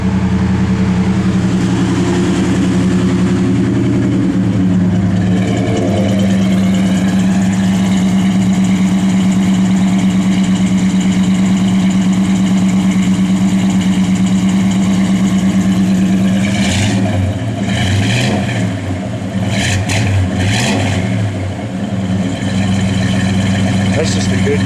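A 1969 Plymouth Road Runner V8 idles steadily and loud up close, a deep rumbling burble throughout with a brief change in engine note near the end.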